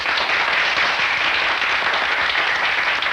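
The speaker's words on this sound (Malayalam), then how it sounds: "എല്ലാവരും ഒന്ന് കൈയടിച്ച്" Audience applause at a public inauguration ceremony, a steady dense wash of clapping that holds loud and even throughout without any talking.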